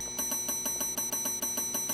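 Doorbell in the horror video game Terroro rings again and again in a fast, steady series of bright electronic chimes, about ten strikes in two seconds, loud and close with no voices.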